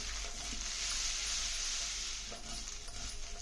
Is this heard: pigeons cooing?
no